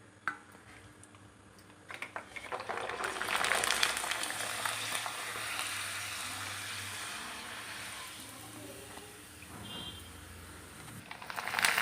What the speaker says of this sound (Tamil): இப்போ எண்ணெயில் போட்டு பொறிக்கிறேன்